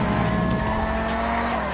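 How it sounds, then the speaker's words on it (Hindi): A car in GTA 5 drifts with a sustained, loud tire squeal over engine roar, one steady skid that fills the whole moment without talk. "ये देखो ड्रिफ्ट लग रही है"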